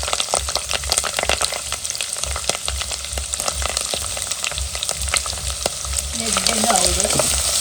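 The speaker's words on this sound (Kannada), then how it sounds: "ಕರಿಬೇವು ಪಾಡಿ ಬೊಕ್ಕ ಒಂಜಿ ಕಂಡೆ ನೀರುಳ್ಳಿ ಪಾಡೊಂದು" Curry leaves and onion fry in ghee in a pan while a chicken gravy is being made, giving a loud, continuous sizzle with crackling pops and occasional stirring scrapes.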